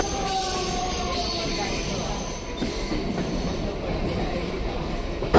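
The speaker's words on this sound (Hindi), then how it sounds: "ये हम पहुंच चुके हैं CST स्टेशन पे।" Train at CST railway station in Mumbai, a continuous rumble of rolling rail cars with squealing wheels and faint clacking, steady and fairly near throughout, with background station noise.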